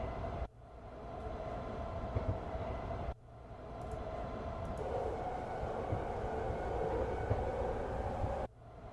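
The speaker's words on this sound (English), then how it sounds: "trains, subways." Train sample of a rolling rail car, a steady rumbling clatter with faint clicks of wheels on track, broken twice by sudden cuts where the sound restarts, loud and close throughout.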